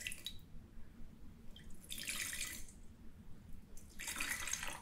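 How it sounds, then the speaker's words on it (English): Sencha tea pours into a pitcher in two short bursts of splashing liquid, close by, with quiet gaps of faint dripping between them. "So when we're pouring the tea, I'm going to pour it into this pitcher."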